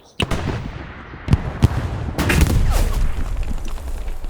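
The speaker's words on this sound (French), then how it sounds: "On a un truc qui nous tire dessus au canon léger." Light tank cannon fire from an M3 Stuart in the Hell Let Loose video game: sharp loud blasts at irregular intervals, followed by a rumbling roar of battle noise.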